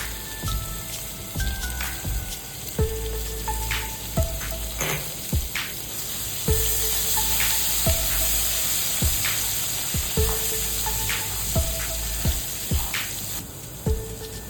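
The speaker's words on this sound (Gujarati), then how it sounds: "આપણે તેલ આવી ગયું એટલે આ આદુ અને લસણની પેસ્ટ" Ginger garlic paste fries in hot oil with a pinch of asafoetida, a constant close sizzle and hiss with repeated light clinks and taps of a utensil against the pan throughout, and no voices.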